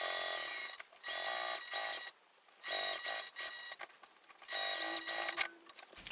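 A sewing machine top stitching a wallet, whirring in several short stop-and-start runs with brief quiet gaps between them, close and moderately quiet.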